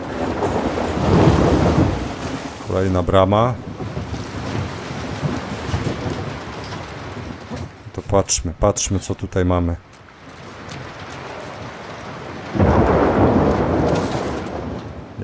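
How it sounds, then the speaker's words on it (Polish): A heavy thunderstorm with steady rain fills a flooded city scene in The Last of Us Part II, with loud rolling thunder crashes and a constant rain hiss underneath, while someone talks over it. "Przez te burze i deszcz."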